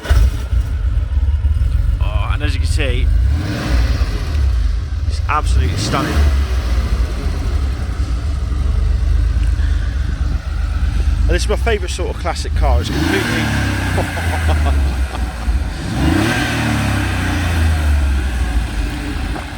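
A 1989 Porsche 911 Carrera 2 (964) with a near-stock engine starts and runs, a low steady idle rumble with revving bursts, heard close beneath someone talking throughout.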